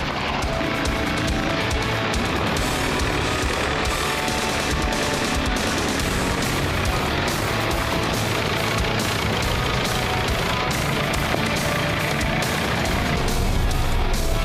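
Ukrainian Varan tactical buggy driving off-road, a loud, continuous rough engine and drivetrain roar with rattling and bumping throughout, no talk.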